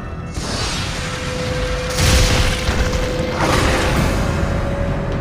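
Horn of Boreas blast in God of War: Ghost of Sparta, a heavy booming rush of sound with a sustained steady tone beneath it, swelling again in a second surge near the end.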